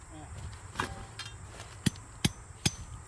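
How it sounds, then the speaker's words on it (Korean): Someone hammers while planting autumn vegetables in a field: three sharp, evenly spaced strikes ring out near the end, after a few softer knocks, against quiet outdoor background. "발둑 뽑으되 그렇게 망치 쳐야 돼요?"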